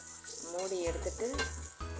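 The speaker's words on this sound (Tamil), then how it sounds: "மறுபடியும் கொஞ்சம் நேரம் கிளறி விடுங்க." Cluster beans frying in a pan are stirred, giving a steady close sizzle with soft scraping through the whole stretch and short low thumps of the spoon against the pan.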